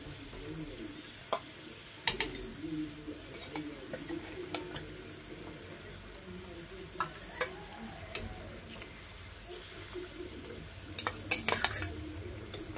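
Mustard hilsa fish curry bubbling in a pan, a soft steady simmer and sizzle punctuated by sharp clinks and scrapes of a utensil against the pan, close and fairly quiet.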